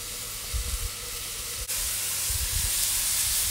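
Ice dropped onto a hot griddle to melt cheese on a cheeseburger gives a steady broadband steam hiss throughout, with a brief dip midway before the hiss swells slightly louder; no talking.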